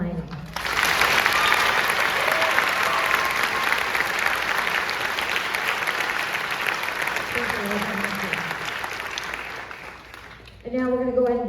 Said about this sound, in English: Can we please give a round of applause for Philip Carter,